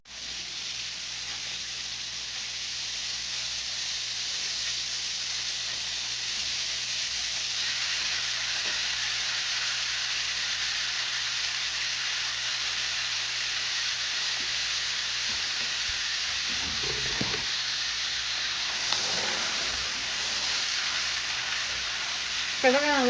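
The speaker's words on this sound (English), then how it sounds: "this beef into the hot butter, and we're going to let it cook for about 8 to 10 minutes." Beef frying in hot butter in a pan, a steady loud sizzle that holds throughout, with a few faint clinks and stirring noises toward the end.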